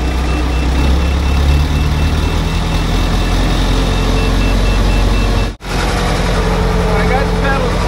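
Heavy engine of a John Deere logging machine revving up loud and steady with a continuous low rumble, a brief dropout midway, and a faint reversing beep in the background.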